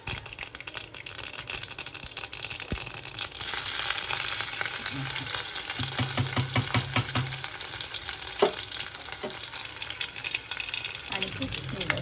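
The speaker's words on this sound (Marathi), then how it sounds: "आता याला फोडणी देते" Spices tempering in hot oil for a green tomato dal, a loud steady sizzle with bursts of crackling, stirring and clatter of utensils, continuous throughout.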